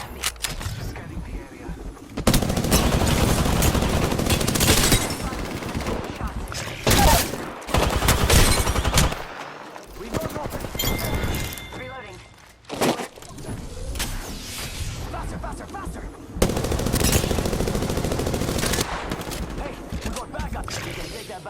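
Dense bursts of automatic gunfire crackle in the Apex Legends battle royale game, long sustained volleys broken by short pauses and mechanical clicks, loud and close, with occasional in-game voice lines.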